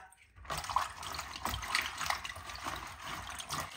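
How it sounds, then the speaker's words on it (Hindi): Okra being washed in water, a close, short splashing and running-water rinse that starts abruptly after a brief silence and continues steadily, with faint background talk. "भिंडियों को पहले अच्छी तरह धो लेंगे"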